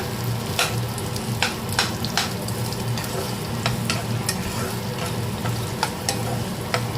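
Onions frying in a pan give a loud, steady sizzle, with sharp spatula scrapes and clicks at irregular intervals and no voices.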